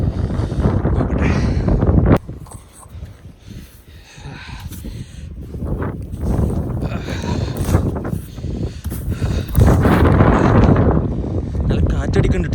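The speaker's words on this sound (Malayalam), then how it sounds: "നല്ല കാറ്റടിക്കണ്ട്." Strong wind gusts buffet the microphone outdoors in the snow around a car stuck in snow in Halifax, Canada, a loud rough roar that surges and drops, with someone talking over it.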